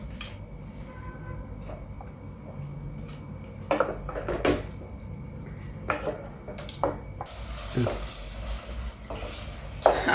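Masala paste fries in oil for butter chicken with a continuous close sizzle, broken by repeated scraping and clinking of a spoon stirring against the pan, growing busier toward the end.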